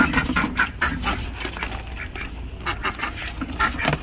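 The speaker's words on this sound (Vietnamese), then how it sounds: "Đây là một con vịt trống các bạn này" A male duck gives repeated raspy quacks at close range on a farm, bursts spaced irregularly over a background of low outdoor noise.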